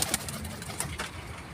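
Pigeons kept on a rooftop coo softly in a brief, close burst, with low throaty murmurs and a few light flutters or scuffs.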